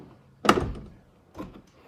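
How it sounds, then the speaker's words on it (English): A Chrysler 300C car door swings shut with one firm, close thunk, followed about a second later by a softer second knock as it settles. "Door shuts nice."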